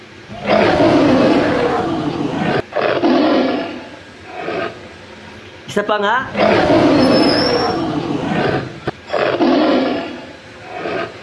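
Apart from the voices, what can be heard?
tiger roaring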